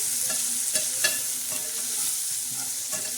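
Spices with turmeric and salt being sautéed in a pan, a steady close sizzle with soft spoon scrapes at an even pace, no voices.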